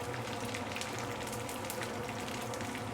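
Ikan bilis, small dried anchovies, fry in oil in a pan over medium-low heat, giving a steady dense crackling sizzle that carries on without a break, close and fairly loud, with no talk.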